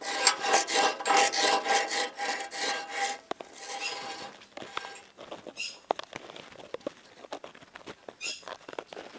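Metal file rasping back and forth across the teeth of a blade to sharpen it, a fast, steady run of gritty strokes that then slows into scattered, sharper scrapes, close and fairly loud.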